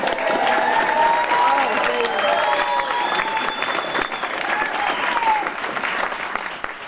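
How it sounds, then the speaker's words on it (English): An audience applauds a pastor at a public address by a mayor, with dense, sustained clapping and some cheering filling the room for several seconds, with voices faintly mixed in. "Give him a round of applause."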